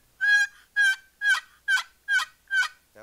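Turkey yelps scraped from a wooden box call as the paddle is drawn across the box edge, six evenly spaced raspy notes in steady rhythm, close and clear, ending with a brief lower scrape.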